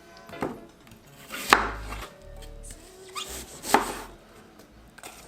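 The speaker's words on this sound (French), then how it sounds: "l'idée, c'est de couper votre pomme comme ça" An apple is cut into four pieces on a board for a Swiss tart, giving a few sharp knife chops and thuds spaced seconds apart, close and clear with light handling noise between them and no talking.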